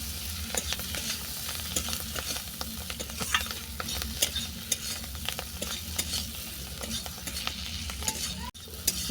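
Spiced masala with chopped coriander is stirred in a pan: a quiet, continuous sizzle with frequent light scraping and tapping strokes in an irregular, busy rhythm throughout.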